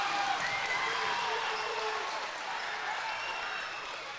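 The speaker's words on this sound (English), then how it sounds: "Tell you what, this Albany crowd is fantastic." A crowd in Albany at a girls' high school basketball sectional final, broad, sustained cheering and applause filling the gym, loud and continuous with no distinct voices standing out.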